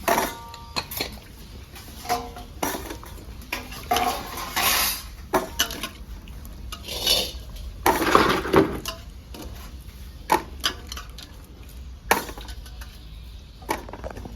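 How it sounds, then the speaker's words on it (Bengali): Soaked amla, Indian gooseberries, are rinsed and set on a plate, producing close clattering of fruit and dishware with clinks and knocks in uneven bursts and no speech. "এবার ধুয়ে এটাকে থালাতে রাখবো"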